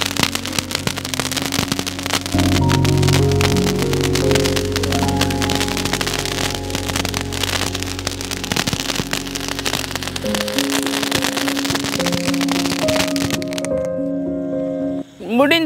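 A handheld wall of Sivakasi firecrackers bursts in a dense, rapid crackling barrage that runs loud and nearly unbroken for about fourteen seconds, with music playing underneath before it cuts off.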